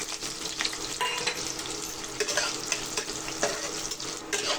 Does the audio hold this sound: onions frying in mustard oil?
yes